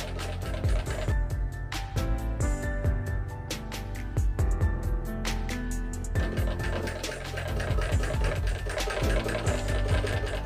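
A sewing machine runs steadily with rapid repeated stitching clatter during neck-shape practice, close and continuous with slight pauses, and no talking.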